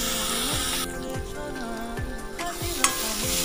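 Onion and tomato paste fries in a pan while a spoon scrapes and stirs it in a repeated rhythm, with a soft sizzle underneath and a couple of sharp clinks near the end.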